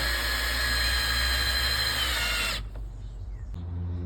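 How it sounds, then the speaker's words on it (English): Power drill driving 3-inch screws into the framework of a 5 by 6 foot deck platform built from repurposed wood, a loud sustained whine that stops sharply, then a fainter rumble and a brief knock follow. "he's putting in the 3-inch screws to secure the framework"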